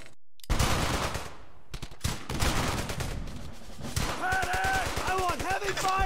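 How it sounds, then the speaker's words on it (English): MG 42 machine gun fire in Brothers in Arms: Hell's Highway, rapid bursts of near and distant automatic gunfire with shouted voices and a ringing tonal effect toward the end. "I want heavy fire on that MG! Paddock! Attack that MG 42!"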